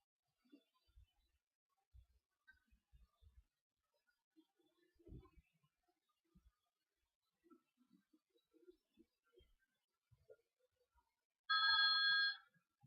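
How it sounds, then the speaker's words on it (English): A short burst of electronic bell-like ringing near the end, loud and close, after a stretch of quiet scattered knocks and faint sounds. "bells are ringing."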